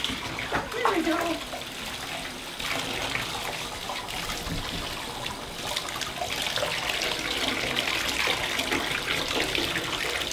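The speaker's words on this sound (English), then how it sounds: "I'm gonna rinse you off." Bath water running steadily from a tap while a cat is rinsed, a continuous close splashing rush lasting throughout, with a voice talking briefly over it.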